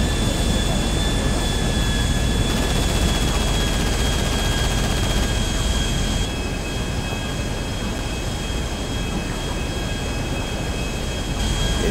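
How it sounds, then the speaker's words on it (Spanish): Helicopter in the video game GTA V passing by, a loud continuous whirring rotor and engine roar with steady high whine tones, dropping slightly partway through. "Si me pasa un helicóptero de la nada."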